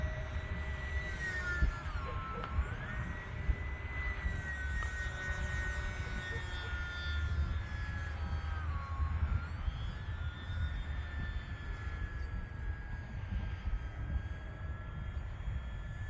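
E-flite UMX Pitts S-1S RC airplane on 3S power flying overhead, a continuous high electric motor whine that rises and dips in pitch as the plane maneuvers, steady at moderate distance with wind noise and a voice speaking at times.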